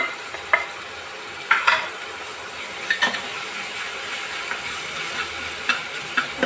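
Capsicum pieces frying in a pan for homemade pav bhaji, with a low steady sizzle punctuated by scattered scraping stirs and clicks of the spatula, no voices.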